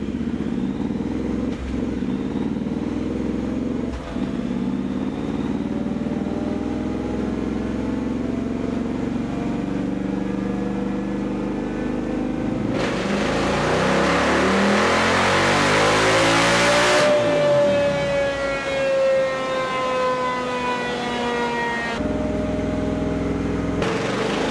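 A Triumph Thruxton TFC Limited Edition motorcycle engine running on a dyno, revving up steadily through rising, loud sweeps, then dropping back and winding up again with a droning exhaust tone, close and continuous.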